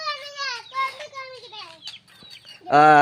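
Chickens cluck and chirp in a rising, wavering series of calls, ending in a louder, fuller squawk close by.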